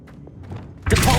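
An Accio spell cast in Hogwarts Legacy lands as one sudden heavy thump after a quiet lead-in, loud and close.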